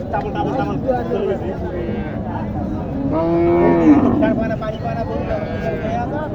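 A Sahiwal calf gives one drawn-out moo that swells and fades, heard close by over people talking in the background at a cattle market in Naogaon, Bangladesh.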